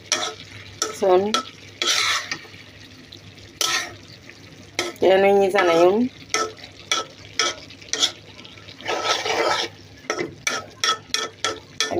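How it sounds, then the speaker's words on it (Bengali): A pan of mixed vegetables fries with an ongoing sizzle while a spoon scrapes and stirs in bursts, and a voice talks briefly over the cooking. "মিক্স সবজি ভাজিয়ে দিই"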